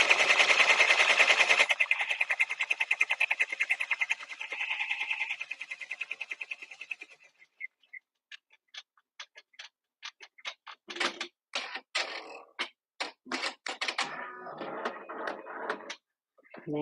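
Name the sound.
sewing machine stitching an applique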